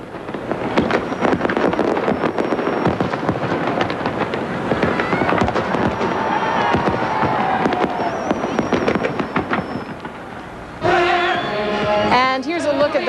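A Fourth of July fireworks show over New York City crackles and booms continuously, with dense overlapping bursts and rumbling reports, shifting near the end to a different stretch of sharper pops and whistling sounds.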